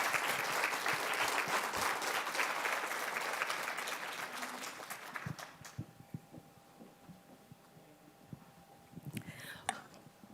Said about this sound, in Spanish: Así que recibámosla con un gran aplauso.